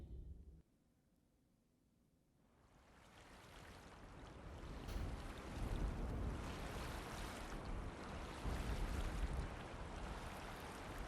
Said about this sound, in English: I hear lots of water.